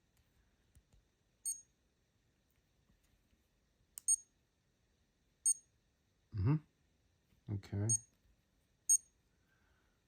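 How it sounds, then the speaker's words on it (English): Timex Atlantis 100 Indiglo digital watch alarm sounding as short high-pitched beeps spaced about every one to two seconds, with someone briefly speaking between them. "there's the alarm sound"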